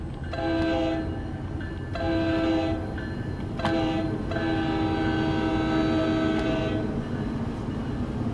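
A New Jersey Transit train in Train Simulator 2021 rumbles steadily past while its horn sounds in several sustained blasts, loud and near, over continuous rail noise.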